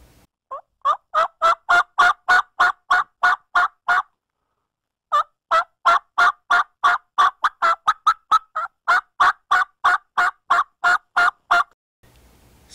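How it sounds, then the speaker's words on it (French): A wild turkey hen yelp call is played in two long runs of rapid, evenly spaced two-tone notes, loud and close, separated by a short pause, with no talking over it. "Aujourd'hui, on commence avec le yelp, le glapissement en français."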